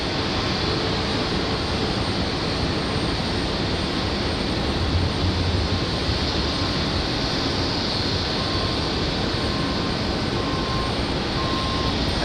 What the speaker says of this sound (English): This one's a United Express coming in from Newark, New Jersey.